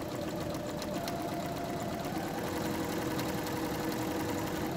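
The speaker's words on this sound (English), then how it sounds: "So we're going to do one straight seam all the way around at 2 inches." A sewing machine runs steadily and continuously, stitching a straight seam with an even, close, mechanical whir and no break throughout.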